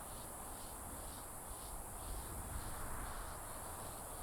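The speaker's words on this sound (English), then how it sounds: "The downpour of cicada cries continues unabated." Cicadas in a forest in the video game Lost Odyssey, a dense, loud, unbroken high buzzing chorus with a steady pulsing throb layered over it.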